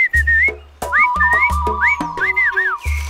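A person whistles a short, lively tune of rising and falling notes in loud, close phrases, separated by brief pauses and backed by low thumping music beats.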